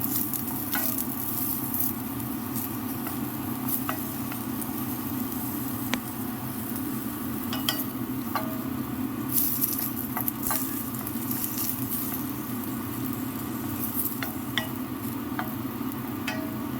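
Onion frying in a little oil in a pan, giving a steady, close sizzle with a soft crackling patter and occasional stirring clicks, and no one talking.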